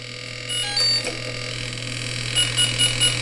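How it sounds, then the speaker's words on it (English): An electronic speed controller on a Skipper XL float plane motor, apparently faulty, gives short, regular, evenly spaced high beeps over a steady electrical hum, close by and fairly quiet. "motor just starts beep beep beep beep beep beep beep beep beep"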